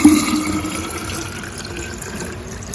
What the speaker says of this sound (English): I'm gonna be pouring it now into this jug